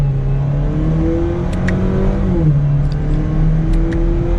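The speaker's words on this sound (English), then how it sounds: "And getting up to speed again, it's very impressive for a turbocharged 4-cylinder." A 2021 Chevrolet Camaro 1LS with a turbocharged four-cylinder pulls hard from inside the cabin, its engine droning in a steady rising tone as it builds speed, loud and continuous.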